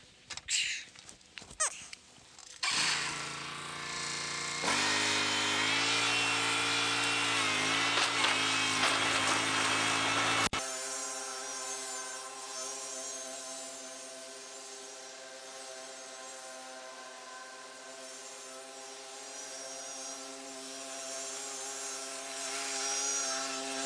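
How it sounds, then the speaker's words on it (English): A lawn mower runs while cutting grass, its loud, close engine drone turning harsh and rough early on before settling into a steady harmonic hum. No one speaks. "I guess I better get mowing."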